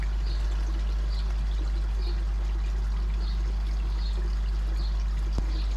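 Water poured steadily into a temporary koi pool, a continuous splashing trickle under a deep low rumble, unbroken for several seconds with a faint bird call in the background.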